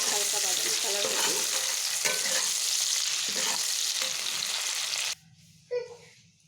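Sliced onions fry in a pan toward light brown, a dense steady sizzle broken by stirring scrapes, cutting off abruptly near the end and followed by one short clatter in near-quiet.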